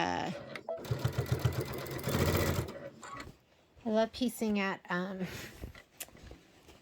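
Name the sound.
sewing machine stitching quilt borders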